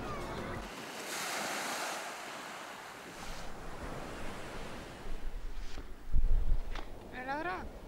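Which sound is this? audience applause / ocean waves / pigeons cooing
ocean waves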